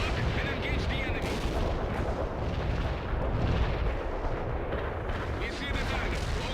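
Artillery fires in World in Conflict, a dense, continuous rumble of booming shots and blasts that fills the whole stretch, with radio-style voices talking over it.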